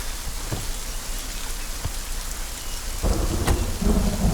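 Steady heavy rain pours over a rumbling thunderstorm, with a louder burst of rain and thunder near the end; no voices.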